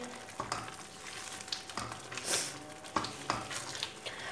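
A spoon scrapes and stirs semolina and egg halwa in a pan over high heat, giving repeated scraping strokes over a soft, continuous sizzle.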